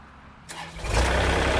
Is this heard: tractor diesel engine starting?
yes